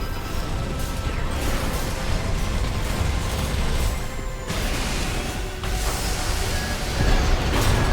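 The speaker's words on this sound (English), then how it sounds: "this explosion got me as I was trying to fly away" Dense, rumbling blasts and crashing impacts from an Armored Core 6 battle, with an explosion dealing splash damage amid continuous loud mechanical combat noise and no talking.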